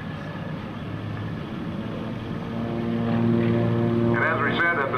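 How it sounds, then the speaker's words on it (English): A Samson propeller aerobatic plane with a 450-horsepower engine drones overhead at an airshow while flying a slow, precise maneuver, its steady engine tone swelling a little louder toward the end. "look how slowly and precisely Bobby Younkin and Samson is flying this maneuver"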